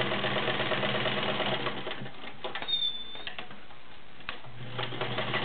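A Kenmore 1757 heavy-duty sewing machine stitches through six layers of denim, a steady close mechanical whir that briefly pauses and resumes with fast rhythmic needle clatter.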